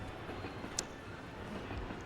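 A train rolls along in the N64 game Blast Corps, a steady rumbling rail drone with one brief bright metallic ping partway through and no voices.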